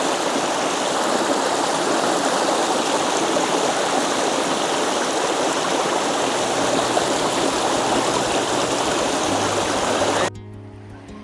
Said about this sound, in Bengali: একটু ঝর্ণাটা আমরা উপভোগ করি